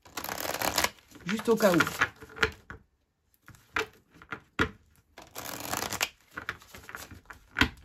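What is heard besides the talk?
shuffling tarot cards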